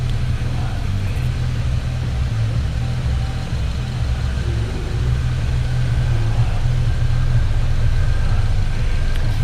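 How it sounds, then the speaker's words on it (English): A car engine idling with the bonnet open while daytime running lights are fitted, a loud, steady low rumble that holds evenly for the whole stretch, close by and without talk. "the reason I've got the engine going"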